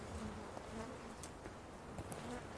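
Killer bees buzz continuously around a hive in a research setting, a dense, steady drone close by with a few louder passes and no talking.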